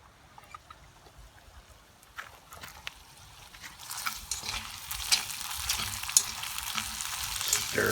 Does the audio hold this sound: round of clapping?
no